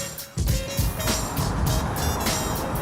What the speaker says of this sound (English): Cars pass through, but no one is stopping.